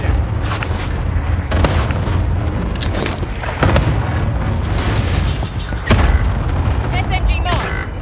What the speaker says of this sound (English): Here's the airstrike target. Reinforcements are on the way. They're really letting us have it. Got your request. Cluster strike.